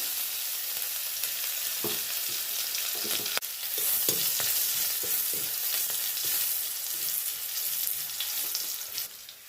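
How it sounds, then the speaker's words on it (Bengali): Black mustard seeds and garlic fry in hot oil, a close, steady sizzle with scattered sharp pops and crackles, no voices. "কালো সর্ষে সর্ষেটা ফুটে উঠলে তারপর রসুন তেতো করা আর লঙ্কা"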